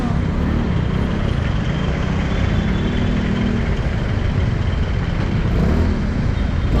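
Steady morning road traffic in Manila, a dense continuous rumble of car and truck engines idling and moving nearby, with no breaks and a faint voice at times underneath.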